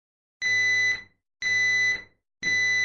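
A Nest smoke alarm sounds three loud, steady horn-like beeps, each about half a second long, with brief silences between them and no other sound.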